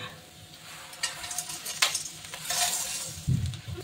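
Potatoes and onions fry in a pan with spices and a little turmeric, a quiet sizzle broken by close, irregular scrapes and clinks of a utensil stirring against the pan.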